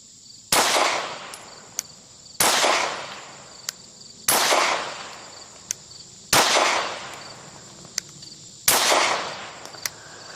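Five pistol shots fired at a steady, slow pace about two seconds apart, each a sharp loud crack with a ringing tail, with faint clinks of ejected brass between shots.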